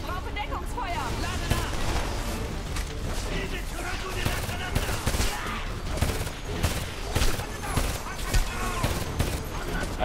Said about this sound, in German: Stehe unter schwerem Beschuss!